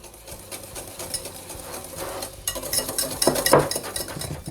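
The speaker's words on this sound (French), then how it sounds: "Je reprends la crème anglaise à la vanille, puis je lui ajoute une partie, environ un tiers, de crème fouettée. Je mélange." A utensil stirs vanilla custard with whipped cream in a bowl, making repeated soft scraping and knocking strokes close by that grow busier in the second half, with no talk.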